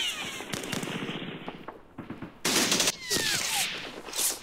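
Rapid small-arms and machine-gun fire in a Second Arab-Israeli War battle in the Campaign Series Middle East game, with dense crackling bursts and louder volleys, no talk.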